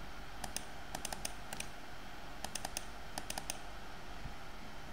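Computer keyboard keys clicked in short bursts of quick taps, a shortcut being typed, close and fairly quiet over low room hiss, with pauses between clusters of strokes.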